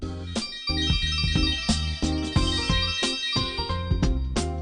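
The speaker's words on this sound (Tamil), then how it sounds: "என் செல்லக்குட்டி ஃபோன் பண்ணிடுச்சு." A mobile phone ringtone plays for an incoming call, a bright repeating melodic tune sounding steadily and fairly loud throughout, alone without talk.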